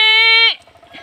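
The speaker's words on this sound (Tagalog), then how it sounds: "Kambing namin." A farm goat bleats once in a loud, near, drawn-out harmonic cry lasting about half a second, followed by quieter scattered rustling and faint background noise.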